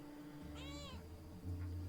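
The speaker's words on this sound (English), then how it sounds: "now let me pet the damn cat" A cat in the video game Pentiment gives a single short, faint meow as it is petted, heard alone against a quiet background.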